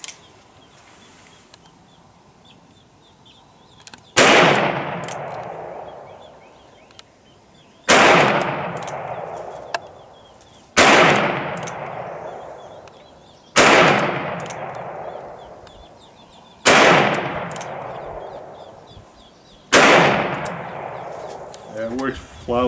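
Korth Mongoose revolver firing 9mm rounds without moon clips, six loud, sharp shots spaced a few seconds apart, each ringing out with a decaying echo in an open range.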